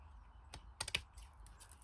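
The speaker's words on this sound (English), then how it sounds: "So we're just going to cut these out." Scissors snip through paper to cut out small shapes for a holiday story journal craft, giving a few short crisp cuts close by at low volume with no talking.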